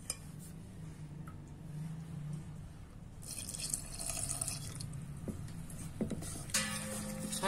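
Water trickles and splashes into dhokla batter in a kitchen, faint and close, with soft drips and a brighter pouring burst near the end, no talking.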